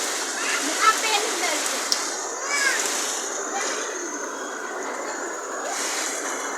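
Heavy rain pours steadily as a broad, continuous hiss with splashy patter, while people talk and call out over it throughout.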